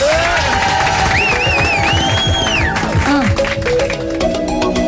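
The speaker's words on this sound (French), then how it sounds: "On applaudit très fort pour lancer l'instru et c'est parti." A studio audience on a French radio show claps and cheers loudly over a blaring music track with a sung melody, crowd noise steady throughout under the instrumental.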